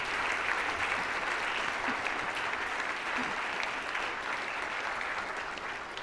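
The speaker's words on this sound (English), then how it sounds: "Well, applause. Let's have an applaudissement." Sustained applause from an audience at a university rectorate inauguration ceremony, a steady even wash of many hands clapping at moderate distance, holding level for the whole stretch and fading only slightly at the end.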